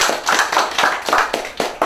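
Hands clap for a CSEC graduate at an awards ceremony, a loud, close burst of quick, uneven claps from a small group with nothing else over it.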